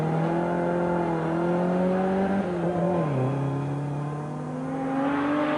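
Volvo P544 rally car driving a tarmac stage, its engine note steady and loud throughout, dipping briefly mid-run and then climbing again as it pulls on, with no voices.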